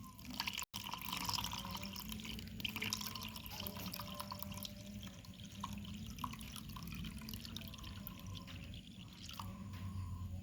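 Waste water from a palm oil industry monitoring demonstration overflows steadily, a continuous close trickling and splashing of liquid with faint dripping throughout.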